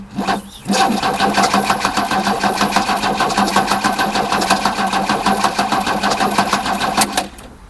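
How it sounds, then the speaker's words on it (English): A 1979 Opel Commodore C, parked for 15 years, cranks over steadily on its starter for several seconds with a loud, rhythmic churning that never catches, then stops. "Now it cranks."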